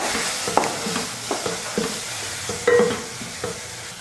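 Okra and tomato sautéing in oil with two spoons of kuzhambu powder for a vegetarian kuzhambu, a steady soft sizzle under repeated scrapes and knocks of a spoon stirring in the pan.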